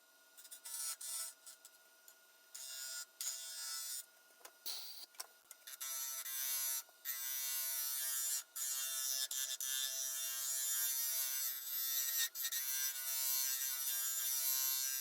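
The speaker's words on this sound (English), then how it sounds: "I find it much easier to put the lathe in reverse when I'm hollowing" A wood lathe runs in reverse while a swan neck scraper hollows an ash and resin form, producing a high buzzing scrape that cuts in and out in bursts, then holds steady and loud near the end.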